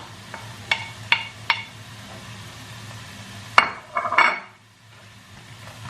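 Soft sizzling of onions in a pan sits under scattered clinks and scrapes of a utensil against cookware, with a few louder metallic knocks.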